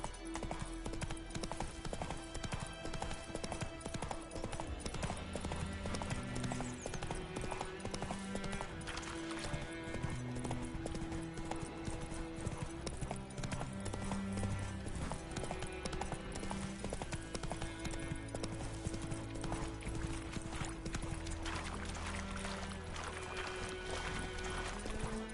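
Horse hooves galloping in the video game Witcher 3, a fast steady clip-clop that runs throughout, close and continuous, with a game music bed underneath.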